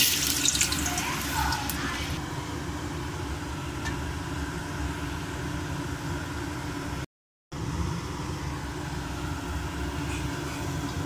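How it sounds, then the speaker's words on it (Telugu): Vadas deep-frying in hot oil give a steady, soft sizzling hiss that continues evenly for several seconds, close by and moderately quiet, with a brief gap partway through. "ఆయిల్ వేడైపోయిందండి. ఇప్పుడు వడలు వేసుకుందాము. వేసుకుంటున్నామండి."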